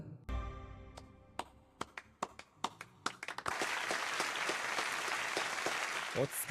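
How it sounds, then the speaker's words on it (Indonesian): Students in an anime school scene break into applause after a speech, starting with a few scattered claps that build into sustained, dense clapping from the whole group, with some voices underneath. "secara sukarela semua murid memberikan tepuk tangan cuy"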